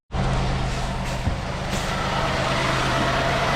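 The engine of an Oldsmobile Delta 88 runs after a tune-up with new spark plugs and wires, starting abruptly and holding a loud, steady drone close by throughout.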